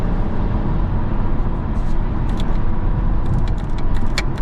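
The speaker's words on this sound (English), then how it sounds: "Let me just put it in sport mode right now. So it does increase the RPMs right away." A car driven in sport mode with its engine held at higher revs, heard from inside as a loud, steady roar of engine and road noise with faint jingling on top.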